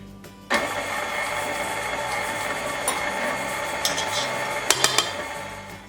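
Sugar being mixed for snickerdoodle cookie dough in a bowl gives a steady scraping, clattering churn that runs throughout, with a few sharper knocks near the end.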